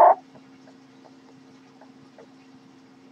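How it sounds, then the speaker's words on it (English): Little bird chirps as sound effects in the Diablo 1 video game, short faint tweets recurring at intervals over a low steady hum after a brief louder burst at the start. "Little bird sound effects have been added."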